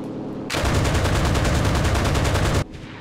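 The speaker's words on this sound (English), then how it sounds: "Oh, anti-air gun." Rapid automatic anti-aircraft gunfire in the WWII shooter Enlisted, a dense sustained burst of about two seconds that starts and stops abruptly, loud and close against quieter game ambience.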